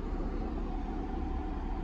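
Steady low rumble of a 2005 Ford F-150 pickup on the move, heard from inside the cab: continuous road and engine noise, moderately loud and even throughout, with no talking.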